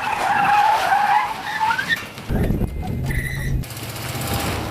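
A big van skids hard through a Rockford spin in a thrash battle, loud sustained tire scrub and engine roar, then a second gritty burst of skidding with engine noise as the van comes around.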